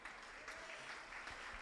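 A church congregation applauds during a sermon, a faint, continuous patter of many hands with no distinct individual claps.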